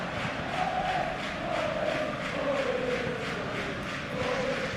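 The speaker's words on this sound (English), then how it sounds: "Crowd calling for him to shoot." Crowd calling for a shot in a football match simulation video game, a sustained roaring chant from a large stadium crowd, swelling steadily and rather distant, with no talk over it.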